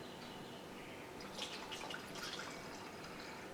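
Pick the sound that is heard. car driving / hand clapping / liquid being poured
liquid being poured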